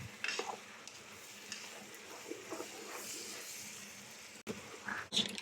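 Chicken macaroni soup is stirred in a pot, giving soft continuous bubbling and low sizzling with a few utensil scrapes, and a couple of louder clinks near the end.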